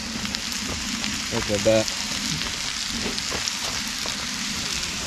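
Food frying at a campsite during a rainstorm, a steady close sizzle with patter mixed in, while a person briefly speaks over it.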